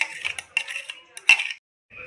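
A spoon clinks and scrapes against a bowl while cake batter of wheat flour and baking powder is mixed, in a series of short irregular taps close by, with a voice briefly heard.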